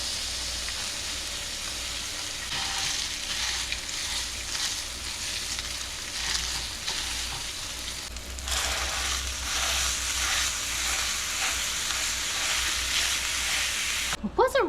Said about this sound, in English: Add my ground beef, my bacon bits and pieces here.